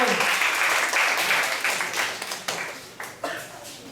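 A school debate audience applauds dense, steady clapping from a crowd that fills the room, then gradually thins and fades with a few scattered last claps.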